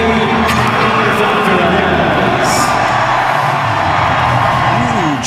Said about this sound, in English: Huge crowd and reception for mixed doubles at the U.S. Open